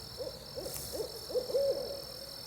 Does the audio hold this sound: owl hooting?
yes